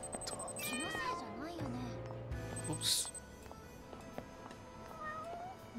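Cats meow repeatedly in the video game Lost Judgment, several rising and falling cries at close range, with a person talking quietly over them and small clicks in between.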